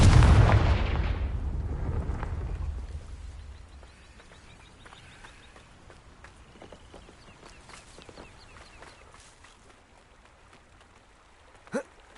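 A big magical Confringo blast in Hogwarts Legacy booms loudly at the start and then rumbles away into a quiet game ambience, with a short sharp pop near the end.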